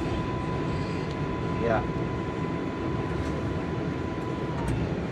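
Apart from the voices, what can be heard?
NYC subway 7 train riding toward Manhattan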